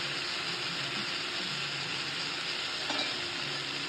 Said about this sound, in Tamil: கொஞ்சம் பெருஞ்சீரகம் போட்டுக்கிறேன், ஒரு பட்டை, ஒரு கிராம்பு, கொஞ்சோண்டு கல்பாசி